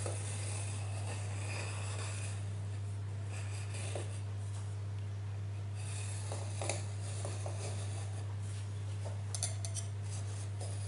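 Pastry dough being cut around the rim of a bowl, with soft, intermittent scraping and slicing strokes in short bursts over a steady low hum.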